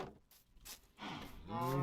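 Cows low in a Minecraft world, two drawn-out moos close by over a faint background with no talking.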